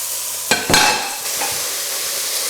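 Seasoned beef pieces browning in a pan, with a couple of sharp scraping stirs followed by a steady soft sizzle, close and clear with no talking.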